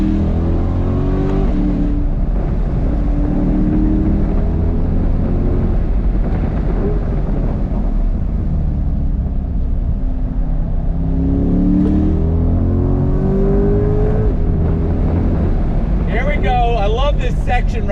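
A 2022 Chevrolet Corvette C8 with the top down accelerates hard, its engine rising in a sustained roar alongside wind rush, with people talking and shouting over it from inside the car.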